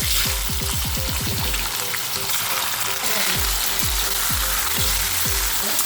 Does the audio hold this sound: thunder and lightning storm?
no